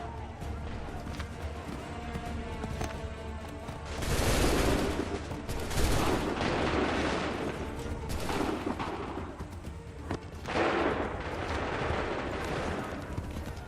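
A musket volley in Assassin's Creed III rings out as a dense, loud crackle of many shots around the middle, with later scattered firing over battlefield noise and shouted commands.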